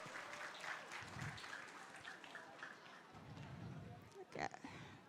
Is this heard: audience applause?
yes